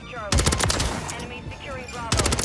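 An HRM-9 or MP5 submachine gun firing in a modern military shooter, two fast automatic bursts of sharp, close, loud shots with voices talking between them.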